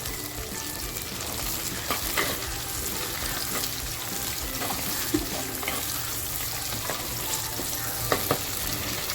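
Onion, garlic and tomato frying for a spicy mutton curry, a dense and steady sizzle with occasional stirring clinks and scrapes close by, with no talking.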